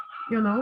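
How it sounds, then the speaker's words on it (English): Dog barking or howling indoors, a short sustained tonal cry that swells loud and holds steady, close by, with no talk over it. "Sorry for my dog."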